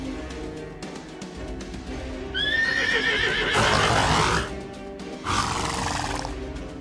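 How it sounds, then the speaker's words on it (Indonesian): A horse whinnies loudly inside a house: a wavering, rising-then-falling neigh that swells into a rough, breathy burst, then a second shorter whinny follows after a brief pause, with no talking. "Suara kuda lagi"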